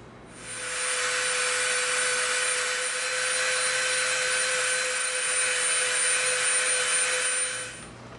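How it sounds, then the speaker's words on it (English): A Dremel rotary tool rounds over the edge of EVA foam for a prop knife, a steady high whine with a constant tone that rises, holds for about seven seconds, then winds down. "we're going to get our Dremel out and we're going to round this off."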